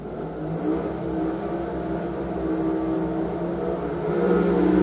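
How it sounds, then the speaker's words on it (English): Drag racing car engine at Pomona revving on the start line, a loud, close, steady mechanical roar that swells slightly toward the end, with no voices. "Hopefully Anders clears the motor out, throws the revs"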